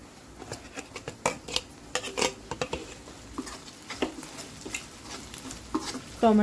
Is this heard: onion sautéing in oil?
yes